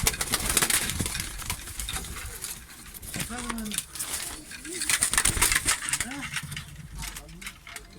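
Tumbler pigeons coo in low, soft bursts while wings flutter and patter nearby, with a person talking over the birds.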